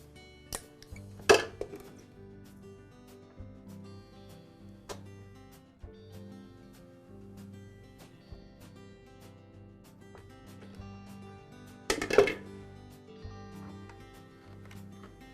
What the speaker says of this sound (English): now I'll disconnect the fuel line from the shutoff valve